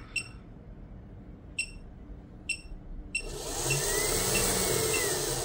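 A small PC fan electric motor, fed from a bench supply at raised voltage, gives a few sharp electronic beeps, then spins up into a steady whirring hum with a rising whine.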